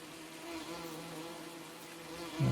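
Bees hum around opened beehives in the Farming Simulator 19 video game, a faint steady insect buzz throughout, ending in a brief louder thump.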